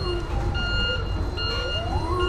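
A Hangcha pallet truck's rear-handle warning beeper sounds a steady repeating electronic tone while reversing, loud and near, over a continuous broadband mechanical and room noise.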